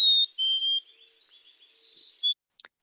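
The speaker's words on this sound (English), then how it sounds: "it's kind of a two-noted is what black-capped chickadees sound like" Black-capped chickadee singing its clear whistled two-note song, with the pair of pure notes repeated, close and bright against near silence.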